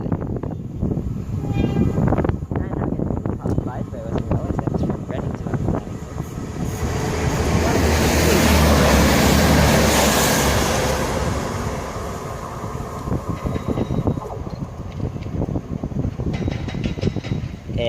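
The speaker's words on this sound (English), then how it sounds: "So that is 166213 on to Papa 41, the 1135 Great Western Railway service from Reading to London Paddington" Great Western Railway unit 166213 runs on the Reading to London Paddington line at Southall, its rumble swelling into a loud, broad roar near the middle before easing away.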